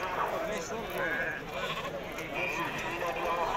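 Sheep bleat a few times in short wavering calls at a busy livestock market in Azrou, Morocco, with people talking nearby.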